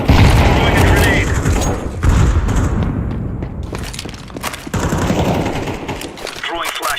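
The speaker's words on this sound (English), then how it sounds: "Throwing a grenade." Counter-Strike 2 match: loud booming grenade blasts and rapid gunfire in dense bursts, with a lull near the middle, while voices talk throughout.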